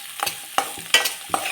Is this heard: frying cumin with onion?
yes